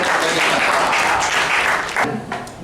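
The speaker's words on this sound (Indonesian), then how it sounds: "Oke, tepuk tangan untuk kelompok 2." A classroom of students applauds a group before its presentation on making a bucket hat, a full continuous round of clapping that holds steady, then thins out toward the end.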